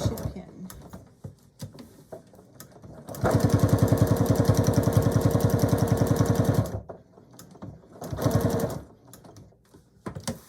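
A sewing machine stitches fabric for a handbag organizer in a long steady run of rapid, even stitching, followed by a couple of shorter bursts with quiet pauses between them.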